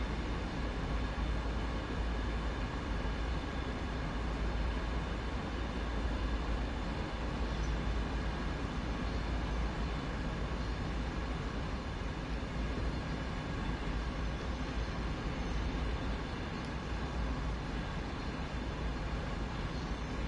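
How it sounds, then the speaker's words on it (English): Steady, continuous rumble of a locomotive running through mountain grade terrain with tunnels in the simulator game Train Sim World 2, low and even throughout with no talking. "lovely locomotive, this one"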